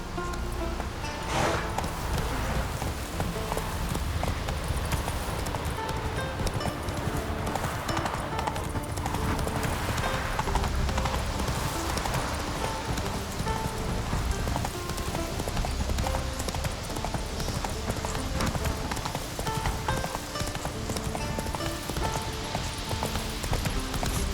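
Roach, the horse in The Witcher 3: Wild Hunt, trotting with steady rhythmic hoof clip-clops, close and continuous over game music and ambient rustle.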